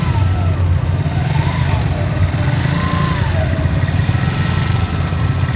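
A small motorcycle engine idles on a ship's ramp, a loud, steady low chugging hum that runs throughout, with faint higher tonal sweeps drifting over it from nearby machinery.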